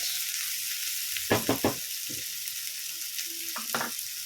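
Jowar poha sautéed in a pan, a continuous bright sizzle underlying a quick run of three scraping strokes, then a couple more later, close and moderately loud.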